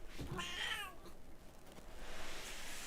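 A house cat gives a single short meow up close, followed by faint scuffling and room noise.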